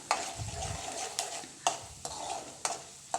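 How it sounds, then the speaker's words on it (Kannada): Peanuts, chana dal and urad dal fry in oil in a pan with a soft, close sizzle. A stirring utensil clinks and scrapes against the pan about six times at a steady pace. No one talks. "ಶೇಂಗಾ ಬೀಜ, ಕಡಲೆಬೇಳೆ, ಉದ್ದಿನಬೇಳೆನ ಹಾಕಿ ನೀಟಾಗಿ ಫ್ರೈ ಮಾಡಬೇಕು."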